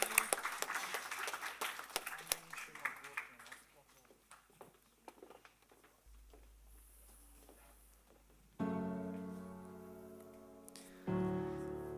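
A church congregation claps at an Armenian service with scattered, fairly faint applause that fades over several seconds. Sustained organ-like musical tones then take over.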